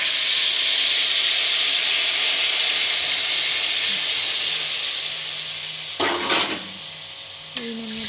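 Hot oil for Bhola fish kalia hisses loudly in a steady, close sizzle, then water goes in and sets off sharper sputtering bursts near the end; no one speaks.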